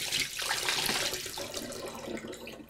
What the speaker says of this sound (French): on va juste rincer ces pommes de terre-là, comme je vous dis, jusqu'à temps que l'eau soit claire